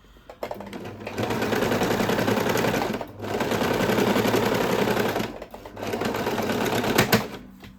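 A household sewing machine stitches the side seam of a T-shirt, its fast mechanical chatter running in three loud bursts separated by brief pauses.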